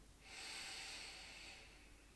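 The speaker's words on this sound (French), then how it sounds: "Et vous inspirez." A single slow, deep inhalation through the nose during a guided breathing exercise, close and quiet, swelling then fading over about two seconds in otherwise silent surroundings.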